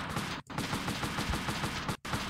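Rapid gunfire from a gun in the PS1 video game Army Men: World War rattles in dense continuous bursts, broken by two brief pauses, with no talk.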